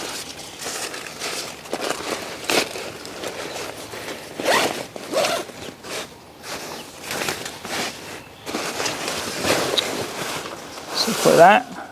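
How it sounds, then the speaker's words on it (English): The zipper on a Haven hammock tent is pulled in a series of short, scratchy zips with pauses between them, close and fairly loud, amid rustling fabric outdoors. "First I gotta zip this up."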